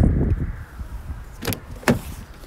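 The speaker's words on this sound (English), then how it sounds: "Electric windows at the rear." Rear electric windows on a Volvo S60 saloon run under a low motor hum and then stop with two short thumps.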